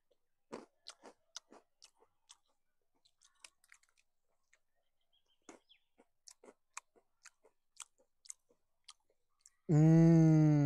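Someone chewing a crunchy snack close up, with sharp irregular crunches and bites spread across the clip and quiet pauses between, then a loud sustained tone cuts in at the end.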